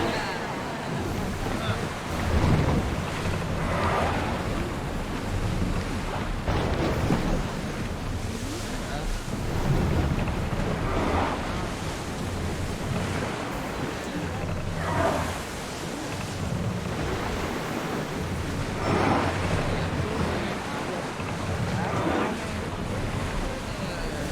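A ship sails across open water in Assassin's Creed Odyssey, with a steady wash of waves and wind and swells surging at a slow, regular rhythm throughout.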